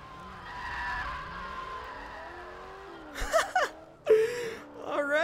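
A car in the Garry's Mod video game drives with a droning engine, then its tires squeal in several sharp skids near the end, loud and close, with no speech.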